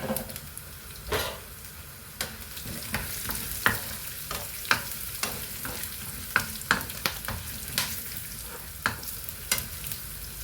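Cashews and whole garam masala sizzle steadily in a pan for a long stretch. Regular sharp clicks from a spoon against the pan punctuate the frying about once a second, and no one speaks.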